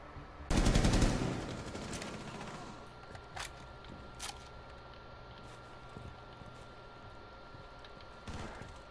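Automatic gunfire bursts out in the video game Rainbow Six Siege, beginning with a loud rapid burst, then scattered single shots and a final short burst, with quiet background ambience between them.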